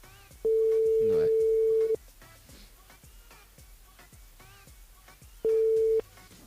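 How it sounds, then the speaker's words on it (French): Two steady single-pitch telephone tones, one long and one short, with silence between them, sound while a radio host calls a listener's mobile on a live evening show. Faint background talk sits beneath the tones. "On appelle déjà Cynthia sur le standard du côté de la petite île"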